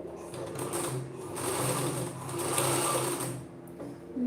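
A sewing machine stitching around a blouse neckline runs in a fast, steady whirring chatter at close range, pausing briefly near the end.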